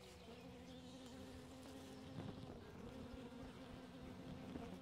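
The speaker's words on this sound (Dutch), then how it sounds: "En het laatste raam ook weer goed bezet met bijen." Honeybees hum steadily inside a Layens hive, a dense, continuous buzz heard up close with no talk over it.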